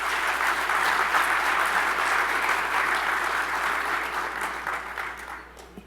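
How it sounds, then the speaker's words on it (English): A crowd at the St. Francis College Charter Award Dinner 2015 gives a dense, steady round of applause that holds for several seconds and then tapers off at the end. "And give them another round of applause."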